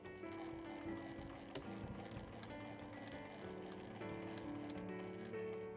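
A sewing machine stitches a tote bag seam, starting with a backstitch, giving a steady, fast mechanical whir and rattle heard close and continuous throughout.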